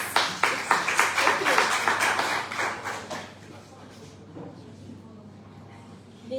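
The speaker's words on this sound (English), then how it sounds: "Can we give her a round of applause?" Audience applause as a speaker is welcomed to the stage, a few seconds of brisk, rhythmic clapping from a modest crowd that fades out quickly, followed by a voice talking beneath a low steady hum.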